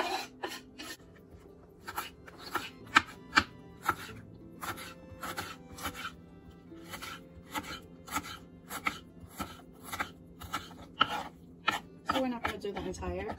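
A knife chops tomato, garlic and chili pepper on a cutting board in steady, crisp repeated strikes, close and clear throughout.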